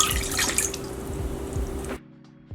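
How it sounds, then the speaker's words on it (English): A steady stream of water pours and splashes into gelatin for about two seconds, then stops abruptly, close by. "Add water."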